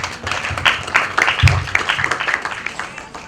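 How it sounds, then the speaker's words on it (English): A short burst of audience applause follows at a breast cancer awareness campaign launch, uneven clapping with a few louder claps and some background voices. "I think they deserve a big round of applause"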